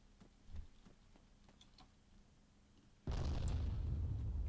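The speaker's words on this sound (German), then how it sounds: "Oh, die Artillerie, jetzt schießt sie sogar." Enemy artillery cannon fire in ARMA III erupts as a sudden loud, sustained roaring blast that fills the scene, following a quieter stretch of faint ticks and a low hum with one soft thump.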